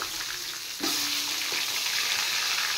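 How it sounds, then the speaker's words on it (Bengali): Papaya pieces going into a hot pan, a soft hiss that jumps suddenly into a louder, continuous frying sizzle with a brief tone at the start, close and with no voices. "এবার পেঁপেগুলো ভেজে নেব।"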